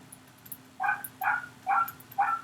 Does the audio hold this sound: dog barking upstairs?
yes